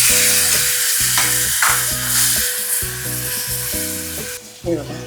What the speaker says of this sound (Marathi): आता आपण टाकूया हे टॅमॅटो आणि चिंच घेतली त्याचं ग्रेव्ही केलं आहे ना ती